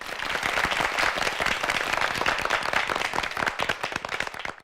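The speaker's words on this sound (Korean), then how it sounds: "박수로 환영해 주십시오" An audience at a high school debate competition claps to welcome a debater, with close, vigorous, dense applause sustained for about four seconds before ending abruptly.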